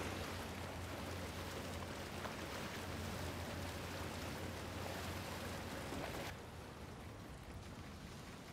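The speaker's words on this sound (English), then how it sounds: "White water." Rushing white water in the video game Resident Evil Village plays as a dense, steady wash of hiss and splashing, fairly loud, then drops a little in level near the end; no talk.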